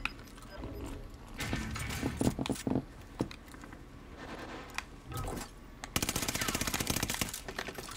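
Gunfire in Call of Duty: Warzone, with scattered single shots and short bursts at varying distances, ending in a sustained close rapid automatic burst.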